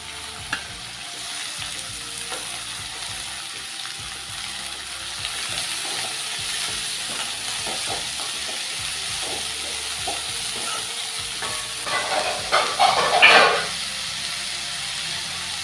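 Amaranth greens fry in a pan, giving a steady soft sizzle and hiss with light stirring clatter that grows louder briefly near the end, with no talking.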